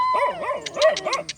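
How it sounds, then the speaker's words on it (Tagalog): Several dogs bark and yelp in quick, overlapping bursts nearby, a short rapid volley of loud barks. "Hinahabol na kami ng mga aso."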